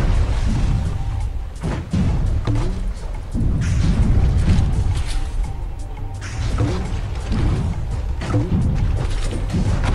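Sniper cannon fire in the naval combat game Battle Bay: repeated loud, booming low-frequency blasts and crashes recur through the stretch, with dense rumbling between shots and no talk.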